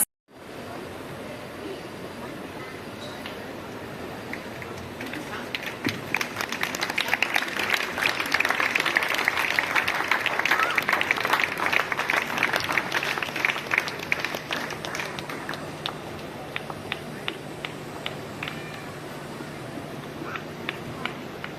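A large audience at an outdoor yoga festival on the Ganges riverbank applauds country diplomats, a dense sustained wash of clapping that swells to a peak midway and stays steady to the end.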